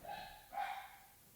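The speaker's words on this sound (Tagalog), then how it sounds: "Sorry sa aso kung naririnig nyo." A dog barks from downstairs in a house, two short, muffled barks heard faintly at a distance through the floor.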